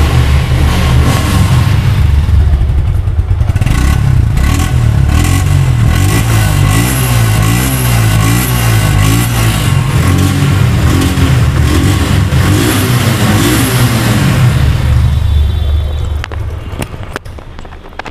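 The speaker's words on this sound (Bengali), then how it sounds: "এখন গাড়িটির সাউন্ড করে শুনবো, আপনি স্টার্ট করে শোনাবো" A five-month-old used Suzuki Gixer single-disc motorcycle with about 1,900 km on it starts up and revs repeatedly, its engine roaring close and loud with rising and falling surges before settling lower at the end.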